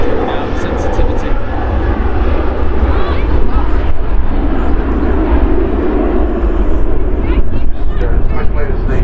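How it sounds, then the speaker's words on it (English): A TUI Boeing 737 airliner takes off at Manchester Airport, its loud, steady engine roar filling the scene throughout with a broad rumble, while people talk nearby. "As quickly as the TUI 737 heads off to Fuerteventura."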